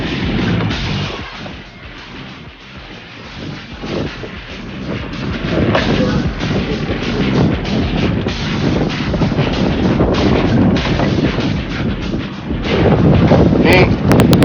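Strong wind roars at sea aboard a fishing boat out after tuna in a storm, a loud continuous gusty rush close to the microphone with hull and water noise underneath throughout.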